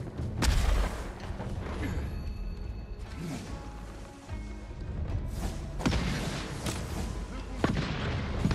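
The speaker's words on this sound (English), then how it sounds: "Look at them snipe shots." Sniper shots ring out in Ghost of Tsushima: Legends as a few sharp, booming cracks spaced several seconds apart over a dense bed of combat noise and ambience.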